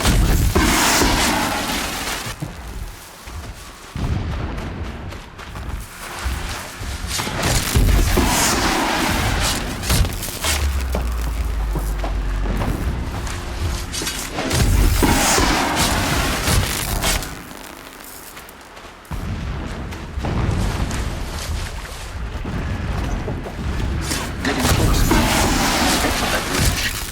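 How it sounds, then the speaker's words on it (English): Distant explosions in Horizon Zero Dawn, deep rumbling booms rolling repeatedly through a dense, noisy game soundscape at moderate loudness, with no one talking. "Explosions in the distance."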